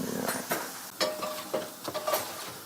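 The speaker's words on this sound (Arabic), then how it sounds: "بدنا نقليها بالزيت" Food frying in hot oil for a Syrian breakfast, a soft sizzle broken by several stirring and utensil clinks against the pan, close and fairly quiet.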